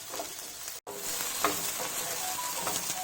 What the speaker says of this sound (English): So I'm going to keep frying it for some time till all the stickiness goes away